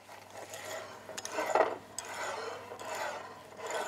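Petit suisse cream, grated zest and crushed pistachios being mixed with a whisk in a bowl for a strawberry charlotte, giving a soft, continuous scraping and swishing in repeated strokes, close and fairly quiet with no talking.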